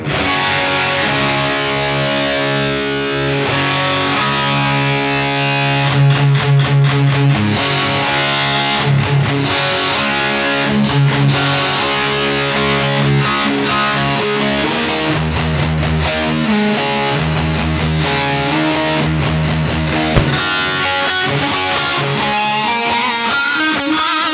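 An electric guitar played through a BOSS eBand JS-10 plays a continuous, full-toned passage with notes trailing into echoing delay repeats and a spacious reverb wash.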